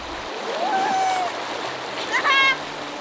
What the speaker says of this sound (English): There are some neat little waterfall-y bits that you can go over